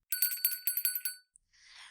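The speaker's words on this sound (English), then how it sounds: "The bell above the door jingled again." A bell above a shop door jingles in a bright rapid cluster of chimes, then a single faint ding and a soft rustle, close and clear with no voices.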